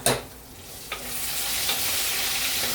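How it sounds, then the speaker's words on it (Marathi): Onion frying in hot oil with red chillies and asafoetida, stirred in a pan: a steady broadband sizzle that builds and holds, with a few soft scraping stirs, close and alone. "कांदा घालून घेऊ. त्याला चांगलं परतून देऊ."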